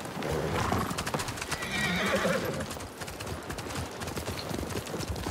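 Horses gallop in a fast drumming clatter of hooves in the video game Ghost of Tsushima, with a whinny rising partway through, all at a steady moderate volume.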